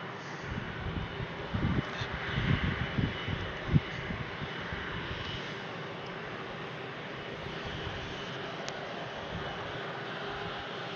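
An aircraft landing at Brussels Airport produces a faint, distant, steady engine drone with a low rumble, swelling slightly early on and then holding an even roar throughout.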